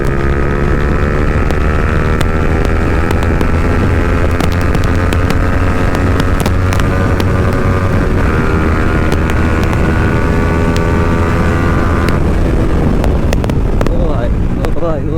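Kawasaki Ninja Z900 superbike roars steadily on a group ride, a loud continuous engine drone with rising pitch near the end and wind buffeting the microphone.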